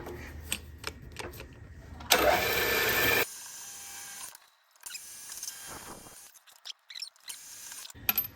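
A CNC machine drills a center hole in a thin metal brake caliper rotor adapter, giving a loud, close whirring burst of about a second amid softer clicks and mechanical rattles.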